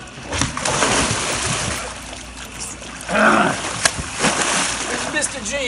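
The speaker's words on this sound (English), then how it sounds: "In the water I went." Splash of a person falling into water outdoors, a loud slosh and spray among continuous watery noise, with a voice talking over it.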